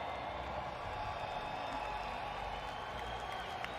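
A large crowd applauds and cheers at a solo World Cup final gaming tournament in New York, a dense, continuous roar of clapping and voices at steady volume.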